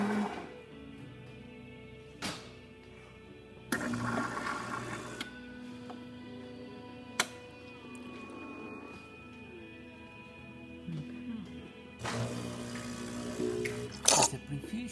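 A Gaggia Accademia espresso machine brewing a shot, a faint mechanical pump hum with intermittent clicks and louder whirring bursts, quiet overall with brief bits of background noise.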